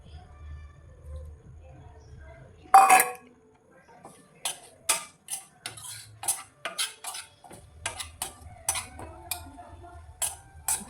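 A metal utensil clinks and scrapes against a bowl while egg fry mixture is stirred, giving a quick run of sharp, irregular taps after one louder clatter, with low background hum.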